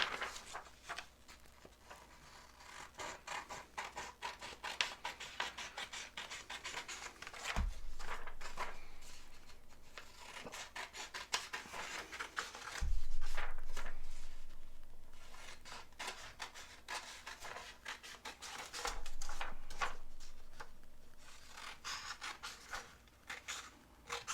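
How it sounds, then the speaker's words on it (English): A paper outline being cut with scissors at a desk, quiet intermittent snipping and rustling of paper with a few soft thumps as the sheet is handled, close and faint. "I'm going to go ahead, cut out the outline"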